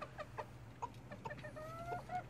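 Hens and a rooster cluck together in the evening, including a red Cochin hen, with several short clucks and calls repeating at close range amid steady farmyard background.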